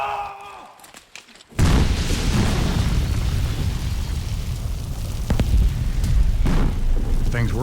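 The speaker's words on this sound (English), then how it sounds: "Things were exploding, propane bottles and propane tanks and ammunition and all kinds of stuff." Propane bottles, propane tanks and ammunition explode inside a burning cabin, a sudden massive roaring blast that becomes a sustained loud rumble with scattered pops and bangs.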